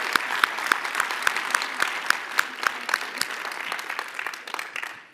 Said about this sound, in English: join me in giving Craig and Jenny a big round of applause